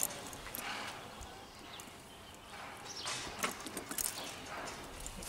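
A chestnut horse with four white socks is worked in a Pelham bit with movable shanks, its hooves giving soft, irregular clip-clop thuds over steady outdoor noise, with faint jingling and a bird now and then.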